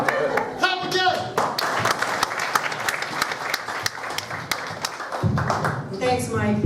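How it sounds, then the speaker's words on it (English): A comedy-show audience claps to welcome a performer to the stage, scattered distinct claps and loose applause mixed with audible laughter and crowd voices, with a host's voice breaking in near the end. "Clap again."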